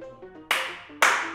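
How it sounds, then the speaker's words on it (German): A couple of sharp, loud bursts of hand clapping, spaced about half a second apart, each fading quickly, with no talking over them. "Sollen wir klatschen?"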